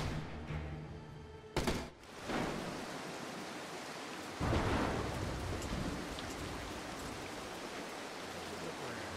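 Steady rain pours through a thunderstorm in the stealth game Mark of the Ninja, with a sharp thunder crack early on and another rumbling surge midway, the downpour continuing as a dense hiss throughout.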